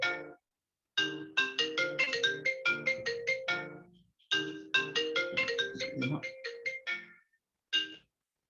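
A mobile phone's melodic ringtone plays in bursts of quick chiming notes, moderately loud and clear, pausing between repeats during a talk in a quiet room.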